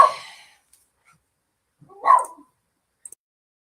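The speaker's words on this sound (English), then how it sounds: "hopefully my dog in the background will calm down. There's someone outside." A dog barks in the background indoors: a single muffled bark midway, a brief yip near the start, and faint thin squeaks after, separated by quiet.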